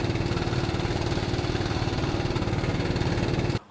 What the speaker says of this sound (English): after that beautiful roar of the engines